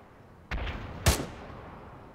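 Two sharp sniper rifle shots in ARMA 3 at night, about half a second apart, each a loud crack with a short rumbling tail, the second heavier and louder.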